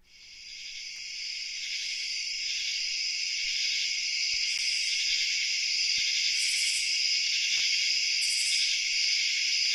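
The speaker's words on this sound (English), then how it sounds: "Play crickets." Crickets chirp steadily as a sleep-sounds track played on an Alexa smart speaker, a dense continuous high trill that holds evenly at moderate level throughout, with no voices.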